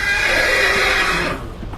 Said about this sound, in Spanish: Un relinchido de caballo cortó de golpe el silencio de la noche.